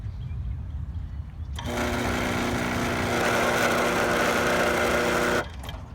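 An electric motor runs with no load on it for about four seconds, a steady, even mechanical hum with a whining tone that starts abruptly and cuts off just as sharply.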